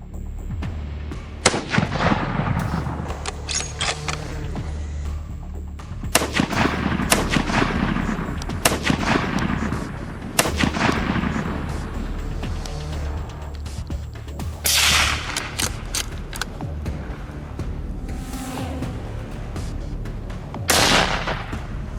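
Rifle shots ring out during a night wild boar hunt, several loud cracks with long rolling echoes, some in quick pairs and others spaced seconds apart across a steady outdoor background.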